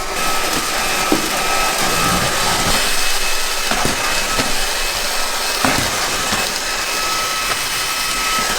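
Welov S25 cordless vacuum cleaner with a fuzzy roller running under a couch, a loud, steady high-pitched whir held without a break, with faint knocks as it moves.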